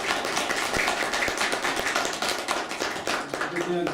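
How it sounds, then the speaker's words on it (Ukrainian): A crowd at a town event opening an ethnographic museum in Biliaivka claps steadily throughout, a dense, continuous patter of applause at moderate volume. "ми загальними аплодисментами всі разом подякуємо організаторам"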